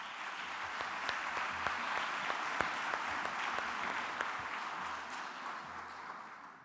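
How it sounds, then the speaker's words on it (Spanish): An audience at a vocational training forum applauds the closing speaker, with steady, sustained clapping across the whole stretch, heard from some distance and fairly soft. "Un fuerte aplauso para ella"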